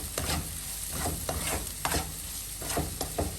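Scotch bonnet pepper, garlic and ginger sauté over medium heat in a pan for vegan curried chicken: a steady, close sizzle broken by repeated scraping stir strokes, with no talking.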